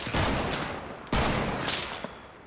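Two heavy blasts of video-game gunfire as a player shoots open a door in a duo sniper shootout, each sharp, loud crack followed by a long, ringing decay.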